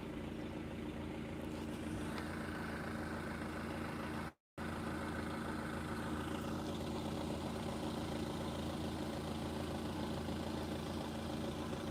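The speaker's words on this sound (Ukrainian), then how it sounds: "Мотор робить рівно." A car engine idles steadily at low volume, a constant even rumble with a momentary dropout, no talking.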